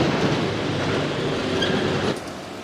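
Train rolling past close by at Ghum railway station near Darjeeling, a loud continuous rumble and rattle of wheels on track that eases slightly toward the end.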